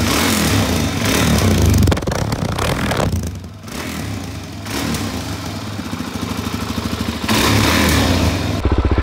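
A motorcycle with an FMF aftermarket exhaust revs repeatedly with a deep, throaty growl, loud and close, dropping to a rumbling idle between throttle blips.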